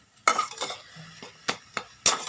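Spices are tempered in a pan for a taro leaf (saru saag) dish, with sharp clinks of a spoon against the pan and short bursts of sizzling, close and fairly loud, no talk.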